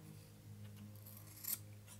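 Scissors snip through leftover thread while a kumihimo-braided chain-and-bead necklace is being finished, a single quiet, close cut over a faint background hum.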